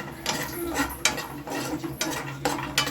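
Wet coconut karanji filling is stirred and roasted in a pan, a spoon scraping and clinking against metal in uneven strokes over a steady background hiss, close and fairly loud.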